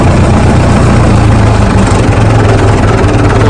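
A Case 580CK backhoe's diesel engine idles steadily with a deep, low rumble and vibration, holding loud and constant without any talk.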